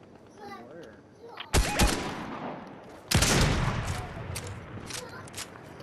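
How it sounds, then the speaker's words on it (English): Sniper gunfire in the Fortnite video game, two loud sharp shots about a second and a half apart, each followed by a long rumbling tail, with a player talking faintly underneath. "Stop shooting at me, dude."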